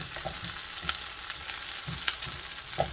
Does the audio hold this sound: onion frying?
yes